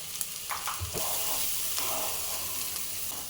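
Chickpeas coated with turmeric are stirred in a pan over high flame, giving a steady close frying sizzle with a few scraping stirs and soft knocks near the start, with no speech.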